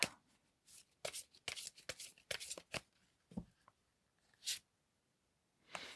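Tarot cards are shuffled and laid out in short bursts of riffling and flicking, separated by quiet pauses, crisp and close.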